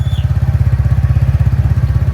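A motorcycle engine idles loud and close, a steady rapid thumping putter that runs without pause.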